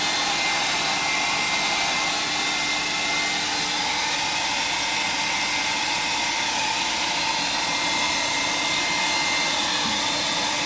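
A hair dryer blows continuously at a steady, loud whooshing roar up close, unchanging throughout with no other sounds.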